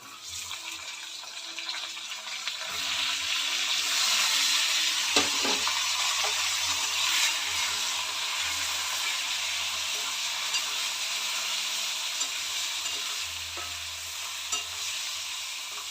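Eggplant dropped into a pan of hot oil starts a loud, broad sizzle that swells after a few seconds and then holds steady, with a few utensil knocks and scrapes.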